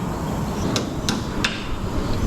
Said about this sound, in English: Started with the hammer, finish it with the tool.